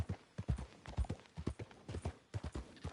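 Horse hooves clip-clop at a steady walking pace in the Red Dead Redemption 2 video game, a borrowed horse carrying a traveler, with about a dozen close, evenly spaced hoof strikes and no talk.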